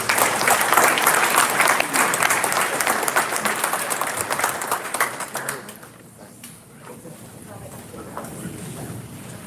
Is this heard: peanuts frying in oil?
no